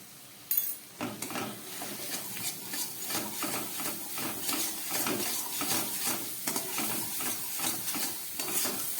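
Ground spices for a fish curry fry in a pan with a steady close sizzle, while a spoon scrapes and stirs in a regular rhythm throughout.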